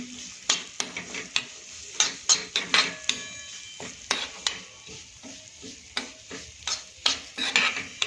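Semolina roasting in hot ghee in a pan while a spoon stirs it: rhythmic scraping strokes against the pan repeat steadily, close up, over a soft continuous sizzle.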